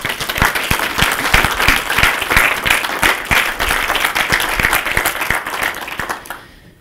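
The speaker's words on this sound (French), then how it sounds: "vous pouvez les applaudir" Audience at a French tech conference talk applauds loudly and continuously, a dense close wash of clapping with prominent individual claps, fading out at the very end.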